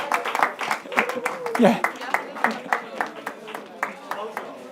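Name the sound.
audience clapping for a participant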